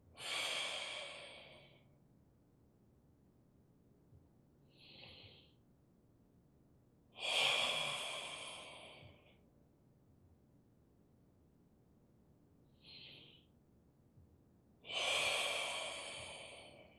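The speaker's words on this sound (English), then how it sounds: "can you hear my breathing? I'm I'm trying to breathe loudly" Loud, deliberate breathing close to the mic: three long, noisy exhales spaced evenly apart, with shorter, quieter inhales between them.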